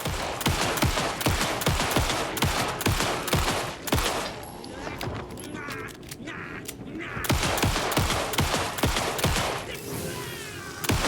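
Rapid, sustained gunfire rattles through an Alan Wake 2 fight, with dense volleys of sharp shots that briefly ease midway before the barrage resumes.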